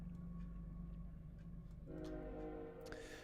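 Train passing outside: a low, steady rumble throughout, joined midway by a sustained multi-tone horn blast, faint and distant, with no speech.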